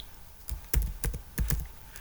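Several quick clicks on a computer keyboard, a handful of separate taps close by over faint room noise, with no one talking.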